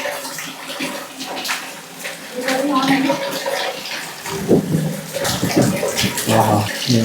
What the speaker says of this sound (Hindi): इसमें पानी भी गिर रहा है और नंदी जी बने हुए हैं जिनके मुंह से ऐसे पानी आ रहा है